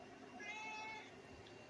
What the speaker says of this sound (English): Meowing as always, are you?